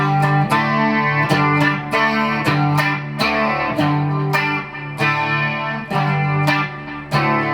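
Enthusiastic, steady guitar strumming through effects like distortion and chorus, rhythmic strokes repeating in a driving pattern, loud and close with no voices.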